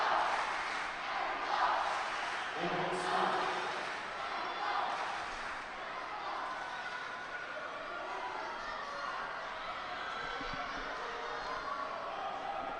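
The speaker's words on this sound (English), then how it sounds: "Crowd trying to get behind Oliveira now." A crowd at a judo Grand Slam event in Cancun cheers and calls out for a fighter during a golden score bout, producing a sustained, diffuse roar of shouting and chatter. A commentator may be talking over it.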